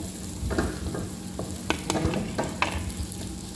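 Onions frying in a pan are stirred, giving a close, steady sizzle broken by quick scraping strokes and soft knocks of the utensil against the pan.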